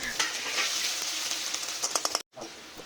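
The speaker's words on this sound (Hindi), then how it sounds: "अब एमा जीरा डालबो, तेज पत्ता और प्याज ला डाल के एला मस्त ब्राउन होते तक भूंज लेबो।" Onion, cumin and bay leaf fry in hot mustard oil with a steady, bright sizzle and crackle, broken by a brief pause near the end before the frying hiss resumes.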